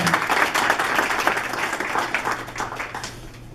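An audience at a CBMC Atlanta chapter installation ceremony applauds during a certificate presentation, with steady, moderately loud clapping that gradually tapers off.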